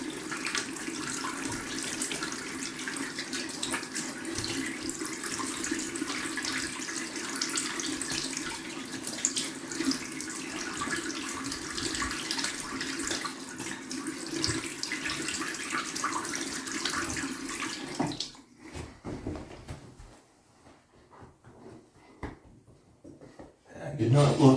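Water runs steadily from a tap into a sink while shaving gear is rinsed, a continuous broadband splash for most of the stretch before it cuts off, leaving faint handling clatter and quiet near the end.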